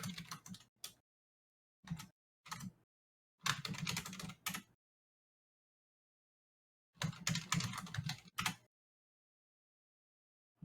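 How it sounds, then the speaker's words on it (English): Quiet bursts of typing on a computer keyboard come in short clusters of rapid key clicks, separated by stretches of silence. "Typing"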